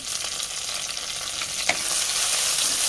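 Onions and curry leaves are sautéing in a clay pot, giving a loud, continuous frying hiss with scraping stir strokes. One sharp clink comes partway through, and the sizzle swells toward the end.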